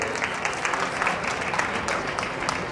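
Applause at a college celebration: a large audience claps steadily and densely throughout, a full, even roar of hands with no pauses.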